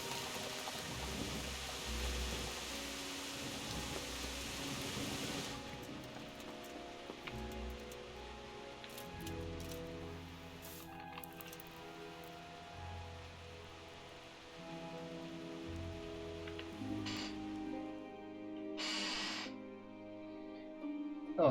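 Steady rain with rumbling thunder from the video game Kingdom Come: Deliverance, a continuous storm bed mixed with soft musical tones and occasional brighter crackles, with no talking.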